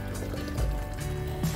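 Water pours steadily over tea bags held in a pot, a continuous filling gurgle that rises slightly in pitch, close and fairly loud, with no talk.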